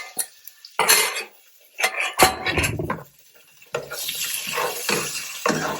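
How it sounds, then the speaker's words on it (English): Cherry tomatoes tipped into a pan with garlic already golden in oil, heard as a series of knocks, clatters and brief scrapes of pan and utensil, uneven and close, with a soft sizzle toward the end. "Now it's time to put the tomatoes in."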